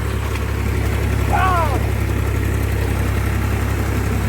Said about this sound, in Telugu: ట్రాక్టర్తో పొలం దున్నుతా ఉంది